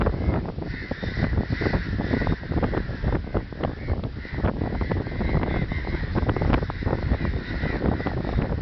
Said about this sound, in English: Birds were making a lot of noise,